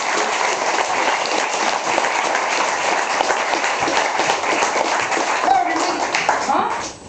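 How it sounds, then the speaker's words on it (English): An audience applauds at an American-style Wild West show in Cornwall, dense sustained clapping throughout that fades out at the end, with a voice briefly heard over it. "So what about a nice round of applause for our judge and Sam."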